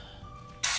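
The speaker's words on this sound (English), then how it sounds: "and then a little bit more cooking spray." A short hissing burst of cooking spray into a dark non-stick pan, a single quick spritz lasting well under a second, close and fairly loud after a quiet moment.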